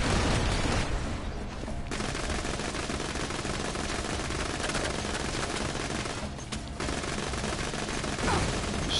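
Dense, sustained automatic gunfire from the shooter Borderlands 2 rattles continuously and loudly for several seconds with brief dips, over faint background sound.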